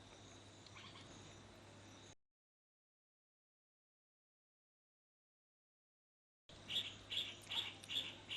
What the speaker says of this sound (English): I'm watching a bird at the moment if I seem somewhat distracted. There are birds all over here.